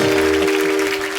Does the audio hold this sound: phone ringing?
no